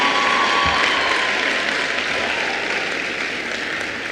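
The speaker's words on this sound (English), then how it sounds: "give Principal Newsom a very strong round of applause" A crowd at a high school class of 2025 transition ceremony applauds for the principal, a sustained, loud and even wash of clapping that eases off slightly toward the end.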